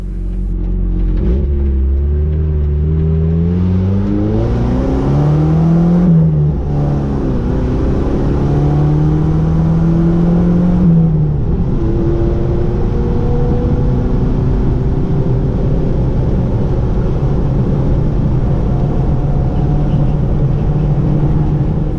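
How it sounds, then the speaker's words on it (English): A 2000 Jeep Wrangler SE TJ with the 2.5-liter four-cylinder pulls hard onto a highway on-ramp toward 70 mph, its engine droning loud and close, rising in pitch through each gear before shifting down, then settling into a steady cruise hum. "let me show you just how slow this 4-cylinder Jeep is. Here's a left-hand turn down an on-ramp to 70 miles an hour."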